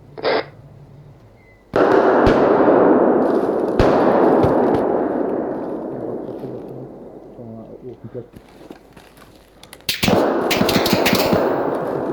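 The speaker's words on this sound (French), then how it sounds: "Ça tire pas de l'arrière du bâtiment." Simulated gunfire in the military shooter ArmA 3: dense, loud bursts of automatic fire with scattered single shots over most of the stretch, fading slightly midway before a sharp new volley near the end, with radio voices talking over it.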